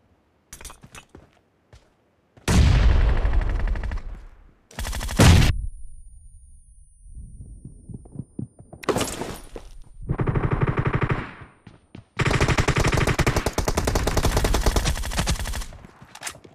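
Gunfire in the PUBG video game, with several bursts of loud close automatic fire separated by short pauses and quieter stretches.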